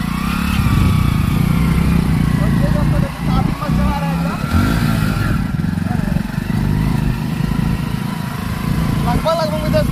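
A motorcycle ridden by a beginner on a first ride, its engine running steadily close by with a brief dip and recovery midway, heard under continuous talking.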